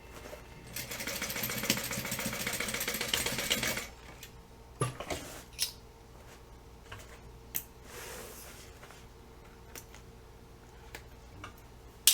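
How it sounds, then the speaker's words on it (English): A sewing machine stitches a half-inch seam on a quilting project, running in a steady fast whir for about three seconds before stopping; a few separate clicks and handling taps follow in the quiet after. "And then we're going to sew it, 1/2 inch seam allowance."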